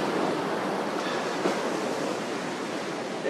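Ocean waves at a beach, a steady broad wash of surf noise filling the whole stretch with no clear individual breakers.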